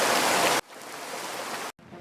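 Rain in a cartoon falls as a steady broadband hiss that cuts abruptly from loud to softer, drops out briefly near the end, then resumes.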